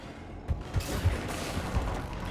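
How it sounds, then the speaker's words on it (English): Gunfire in the video game Mass Effect 3 rings out as several heavy, booming shots in an uneven burst over a rumbling battle background. "Shepard, I hear gunfire."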